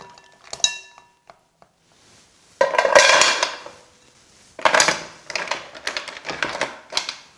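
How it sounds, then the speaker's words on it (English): Fresh mussels tipped into a shallow fry pan, a loud scatter of hard shells clattering and clinking against metal in two main bursts, close and distinct. "I can just put that one I've de-bearded and all these others directly into my pan"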